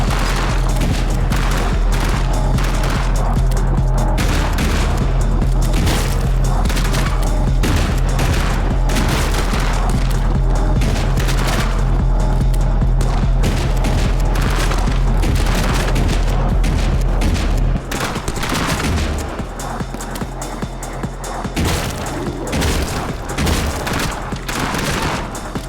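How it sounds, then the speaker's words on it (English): Automatic pistol fire in a shooter video game: dense, rapid, continuous bursts of loud gunshots with heavy low booms, running almost without pause and easing slightly near the end. "New gun. Oh, auto pistol."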